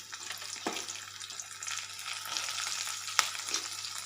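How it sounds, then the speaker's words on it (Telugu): Bean pieces drop into hot oil seasoned with shahjeera, giving a steady close crackling sizzle with a few sharper pops and stirring clatter, with no voices over it. "ఇది చిటపట్లాడుతున్నప్పుడు ఒక పావు కప్పు బీన్స్ ముక్కలు ఇందులో వేసుకోవాలి"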